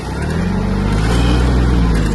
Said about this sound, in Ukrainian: Знімаємо трактор з тормозу